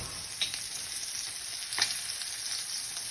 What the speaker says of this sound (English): It's just searing the outside.